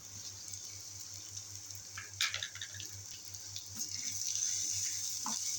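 Onion sautéing in a pan for cauliflower kurma gives a quiet, steady sizzling hiss with faint pops, alone over a low background hum.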